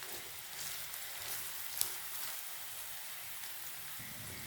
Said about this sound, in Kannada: ಎಣ್ಣೆ ಬಿಸಿ ಆದ ನಂತರ ಈರುಳ್ಳಿ ಹಾಕಿದೆ ಮತ್ತು ಹೆಚ್ಚಿಟ್ಕೊಂಡಿರೋ ಹಸಿಮೆಣಸು ಮತ್ತು ಬೀನ್ಸನ್ನು ಸೇರಿಸ್ತೀನಿ